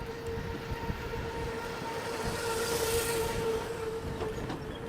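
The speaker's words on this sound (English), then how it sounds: "You can see now the tram car coming by." A tram car rolls past on the Wildwood Boardwalk, a steady mechanical rumble with a sustained tonal hum or warning tone, swelling slightly as it nears, with no talking.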